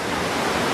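A waterfall's dense, constant rushing roar fills the moment, loud and unbroken, with no voices over it.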